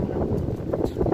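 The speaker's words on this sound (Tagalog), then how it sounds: "Chill jud kayo ang lugar minasan tugnaw hangin." Cold wind blows at Ichinomiya 138 Tower, buffeting the microphone with a constant low rumbling roar that gusts unevenly through a short stretch.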